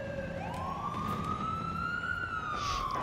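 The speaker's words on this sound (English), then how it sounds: "It's a police car here." A police siren in the video game Watch Dogs 2 wails, its tone sweeping up and holding steady, sounding moderately distant over a low rumbling background.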